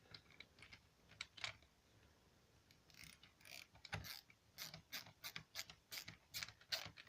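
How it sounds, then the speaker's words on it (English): Husky ratchet screwdriver ratcheting up close, with a few scattered clicks at first and then a rapid run of sharp clicks, fairly quiet with no talk. "It is a ratchet screwdriver, just in case you guys are wondering"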